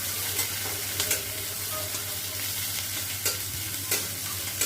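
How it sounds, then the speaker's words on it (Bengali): Onions and chopped green chillies sizzle steadily in a pan while a spatula stirs them, with a few sharp scraping strokes rising over the constant frying hiss, close and fairly quiet. "ভালো করে নেড়ে নেবো।"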